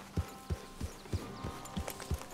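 A horse's hooves clip-clop in Red Dead Redemption 2, about seven even, moderately close steps in a steady walking rhythm over a faint background, with no talk.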